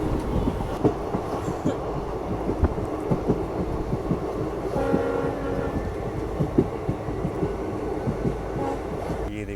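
A train runs at Jetalsar Junction railway station in Gujarat, a steady rumble with rhythmic clicking of wheels over rail joints throughout and a brief horn-like tone midway, loud and close.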